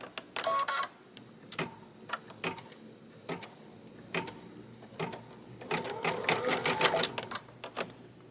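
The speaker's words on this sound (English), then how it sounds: "We're going to stitch the back bottom trimming placement line." An embroidery machine stitches a placement line, quiet bursts of rapid needle clatter separated by brief pauses, ending in a longer busy run of stitching, close and soft with no talking.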